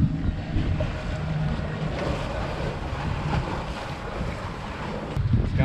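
Strong wind buffeting the microphone outdoors on a West Kimberley island, a continuous rushing roar with gusts, likely by open water.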